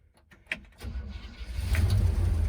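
A 1972 Chevrolet C20 pickup truck cranks briefly, then catches and fires, settling into a rumbling idle that grows louder and steadier at close range.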